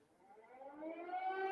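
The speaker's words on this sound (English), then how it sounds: "We're being slightly distracted here by sirens" A siren wails outside, rising steadily in pitch and growing louder over a brief stretch, heard alone and fairly faint.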